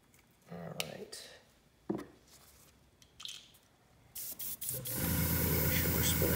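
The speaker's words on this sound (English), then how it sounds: "Make sure we're spraying red." Spray paint of red colour hisses onto a prop weapon, first in a few short bursts after quiet handling noises, then in a long, steady, close spray.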